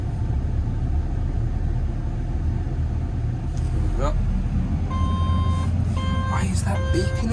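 Intermittent electronic warning beeps sound over a steady idling engine rumble on a vehicle with an AdBlue and exhaust sensor problem, with a few chirping squawks and a murmuring voice in the background.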